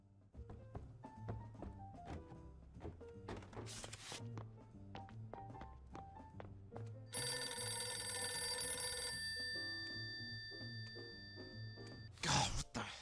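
An office telephone rings in the video game Deliver at All Costs. A bright, sustained electronic ring stands out for a couple of seconds among game thuds, taps and short musical tones.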